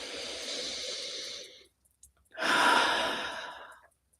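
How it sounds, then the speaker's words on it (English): A slow, deep breath taken during a guided calming reset: a long audible exhale, a brief pause, then a fuller inhale-exhale, close and clear with no talking over it. "Take a deep breath."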